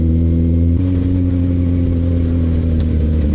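A motorcycle engine rumbles loudly and steadily at close range on a group breakfast ride, a deep, even drone with a slight change in pitch partway through and no talk over it.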